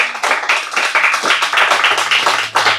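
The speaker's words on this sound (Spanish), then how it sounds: "Puede dar una ofrenda de palmas al Señor." A church congregation claps continuously in a loud, dense wash of many hands, with some rhythmic pulsing, filling the whole short stretch.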